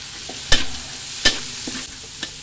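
Onion, garlic and chili stirred into hot oil with ginger in a pan, sizzling steadily with a few sharp scraping strokes of the utensil against the pan.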